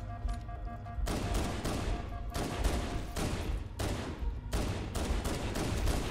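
Heavy shotgun blasts in the video game Halo CE Anniversary, on the Library level, firing again and again about once a second over a dense, continuous roar of loud close-range combat.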